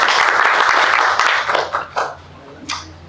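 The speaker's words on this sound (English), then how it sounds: "let's give yourselves a round of applause" Applause from an audience at a talk at ISKCON Hong Kong, dense clapping that thins out into a few scattered claps and fades.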